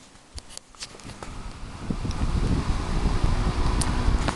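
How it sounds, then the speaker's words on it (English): A 2002 Woolworths 9-inch desk fan on its low setting gives a soft airy whirr with a low rumble that builds and then holds steady, broken by a few faint clicks near the start. "It sounds different to your normal 9-inch desk fan because of the blades. It makes a quite interesting whirring sound."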